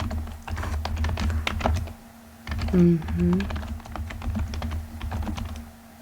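Rapid clacking keystrokes on a computer keyboard in an ASMR job-interview roleplay setting. The typing runs continuously and pauses briefly midway, with a soft voiced sound during the break.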